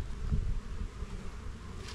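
A steady, low buzzing drone of many Apis mellifera honey bees close by, with light rustling and faint wind noise underneath.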